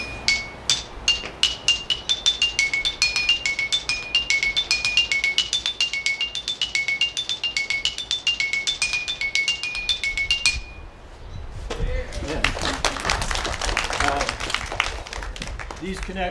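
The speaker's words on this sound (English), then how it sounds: "it has a very nice resonance. It makes a really good ring. So I'll just demonstrate." Rock bars of a lithophone are struck one after another in a steady melodic run, each hit ringing with a clear resonant tone, followed by a burst of broadband clattering noise near the end.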